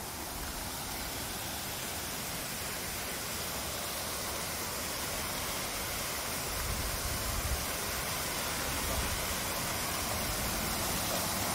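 A waterfall in Apiúna, Santa Catarina, gives a steady, broad rushing roar that fills the scene evenly from start to finish with no pauses.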